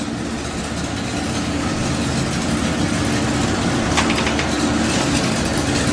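Hot rod drag racing engines running at a drag strip, a loud, constant low rumble that stays steady throughout, with no talking.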